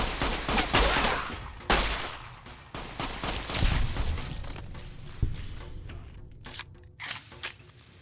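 Rapid gunfire from a shootout in Fallout New Vegas, with dense bursts of shots and sharp cracks, loud at first, then thinning into scattered single shots.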